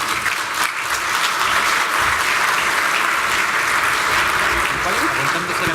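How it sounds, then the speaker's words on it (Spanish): A large audience bursts into loud, sustained applause, dense clapping filling the room steadily without pause. "Dejo con ustedes y pido que recibamos con un gran aplauso al señor Louis Desgrange."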